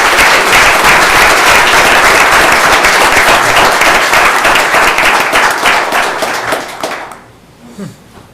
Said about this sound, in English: Can we please give him a round of applause for a job well done?